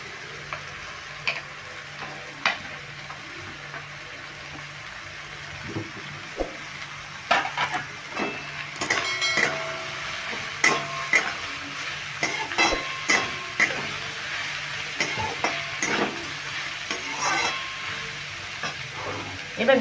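Sliced carrots and capsicum frying and being stirred in a pan for chicken pasta, a steady sizzle broken by frequent sharp scrapes and clacks of a spatula, busier and louder toward the end.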